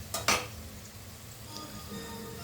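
Chili powder and other spices are stirred together in a cooking pot: two quick metallic clinks of a utensil against the pot, followed by soft stirring and faint sizzling.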